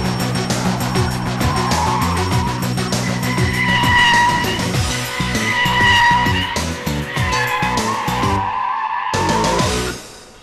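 Car swerving out and back in during an ESP stability test drive, tires squealing and skidding loudly over engine noise, cutting off briefly near the end.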